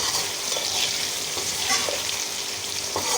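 Okra frying in a pan for bhindi masala, a continuous close sizzle with faint scraping and stirring ticks scattered throughout, no voices.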